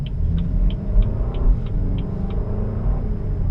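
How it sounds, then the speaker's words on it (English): A BMW 328 with an eight-speed transmission accelerates gently, its low engine rumble steady inside the cabin while a faint rhythmic ticking repeats about every third of a second. "this car has 8 gears, so it revs through them all."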